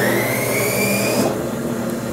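Otolith sectioning saw powered on and running with a water feed to wash away dust: a steady mechanical whine and hum, loud and continuous, with a drop in the high tones partway through.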